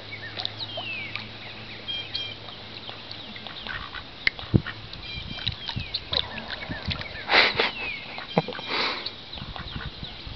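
Ducks quacking near and far with outdoor ambience, calls scattered through the scene and a louder burst of quacking midway, with no talk.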